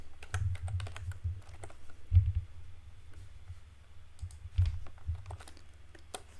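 Fast clicking keystrokes on a computer keyboard while entering a formula into an Excel sales spreadsheet, close and crisp, arriving in irregular bursts with short pauses and no voices.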